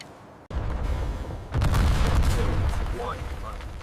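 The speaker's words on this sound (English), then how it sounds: "A controlled detonation rips through the compound, destroying the target completely." A controlled detonation tearing through a compound, starting with a sudden loud boom followed by a heavier deep blast whose rumble rolls on and slowly fades, with a narrating voice heard over it.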